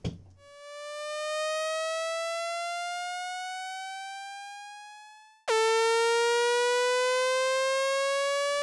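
An Axe-Fx Interstellar preset's second voice plays alone: a bright synthetic tone glides slowly upward, fading as it climbs, then restarts louder an octave lower and sweeps up again, clean and isolated with no talking.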